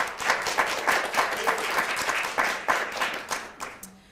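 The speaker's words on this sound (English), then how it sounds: "Please give one more round of applause for Etta." A small gathering applauds at a graduate DEI certificate ceremony; individual hand claps stand out in a loose, rhythmic patter that fades toward the end.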